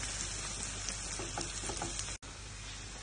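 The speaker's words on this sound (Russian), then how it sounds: "Жарим лук." Onions for spaghetti with canned stewed meat crackle and sizzle steadily in a hot pan, close up, with a brief cut in the sound partway through.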